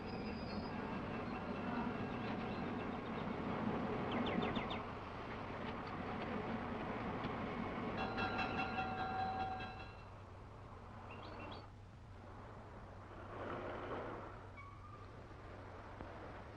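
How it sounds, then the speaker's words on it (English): A passenger train moves through a station with a rumbling roll, clanking cars and sharp wheel squeals, briefly loud and then quieter; faint birdsong sits in the background. "Well, there's my train."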